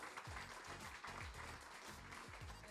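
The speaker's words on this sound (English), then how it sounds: "let's all give ourselves a round of applause" Audience applause at a Google I/O Extended Manila 2025 developer event, a faint, dense wash of clapping that holds steady throughout, with deep thumps pulsing underneath.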